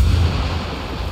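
A grenade blast in Ghost Recon Wildlands gives a heavy, low rumbling boom that fills the short moment and slowly fades.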